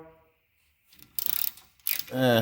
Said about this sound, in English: It's a 13mm 12-point socket. If not, a breaker bar